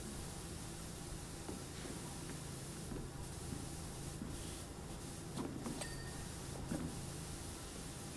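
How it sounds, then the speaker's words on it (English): A pressure washer with a wide spray nozzle in the video game PowerWash Simulator, a steady hissing blast of water that runs unbroken throughout, with a few faint clicks and knocks over it, close and alone. "Gonna go for a wider spray on it."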